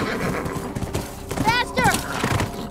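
A horse in The Last of Us video game whinnies loudly and clip-clops nearby amid a tense in-game chase, with shouting voices and game noise around it.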